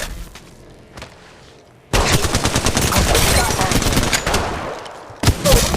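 Gunfire in Apex Legends Mobile: a few scattered shots, then sustained rapid automatic bursts roaring loud and close for several seconds, a brief pause, then another burst; faint game voice callouts sit underneath.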